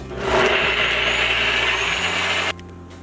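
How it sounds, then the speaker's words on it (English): A blender blitzes cashews with almond milk and nutritional yeast, a loud steady motor whir running for about two and a half seconds before cutting off abruptly to a quieter hum. "we're going to place the cashews into our blender. To that we're going to add almond milk and nutritional yeast and give it a blitz"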